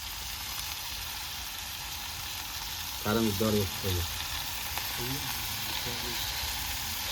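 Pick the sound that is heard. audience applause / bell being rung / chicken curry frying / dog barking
chicken curry frying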